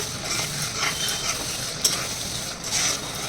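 Tomato and garlic masala, made without onion, stir-fried in a pan, with a steady sizzle and soft scraping strokes from the spoon, plus one brief sharper clink midway.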